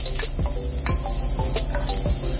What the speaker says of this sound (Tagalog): Ang next nating ilalagay yung ating onion.